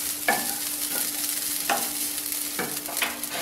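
Coconut is sautéed for mushroom kurma, with a steady sizzle in the pan and three distinct scraping stirs of the spoon, close and clear.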